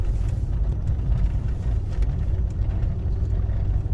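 An old little car drives along a back-country road in Idaho, its engine giving a steady low rumble with road noise throughout, heard from inside the cabin, no talking.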